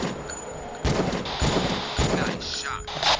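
Automatic weapon gunfire in the video game Jurassic Park Revolution: sustained rapid bursts at moderate loudness, with several sharp onsets over a few seconds.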